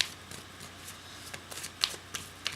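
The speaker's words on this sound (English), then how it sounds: "These are pretty stiff cardboardy cards, so I just shuffle them like this." Stiff cardboard oracle cards are shuffled by hand, giving soft riffling swishes broken by sharper, crisp card snaps, close up and irregular in rhythm.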